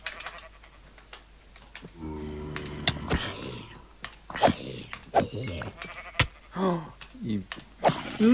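Sheep bleating in Minecraft at nightfall, several short game bleats over clicking keyboard typing, with a person talking throughout.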